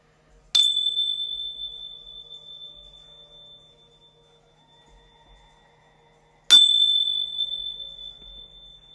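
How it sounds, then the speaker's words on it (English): A small handheld bell rings with a bright, clear tone before a tarot card reading, struck twice with a long pause between, each ring fading slowly into quiet. "I'm going to say a quick prayer and ring my bells"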